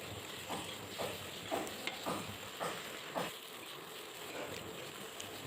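A spoon stirs mustard fruit chutney in a pan over low heat, making soft rhythmic scrapes about every half second over a steady background sizzle and hiss.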